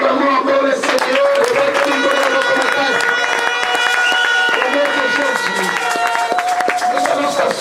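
A church congregation claps and cheers, with steady loud applause and overlapping voices filling the room, singing-like tones rising over the clapping.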